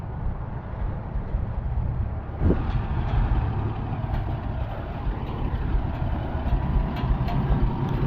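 A 1650 tractor drives through an alfalfa field in four-wheel drive, its engine a continuous low rumble close by, with a faint brief knock partway through and no talking.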